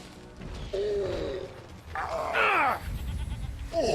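A goat in the Dragon Age Origins game gives a few loud wavering bleats in close succession, the calls rising and sliding over light background noise.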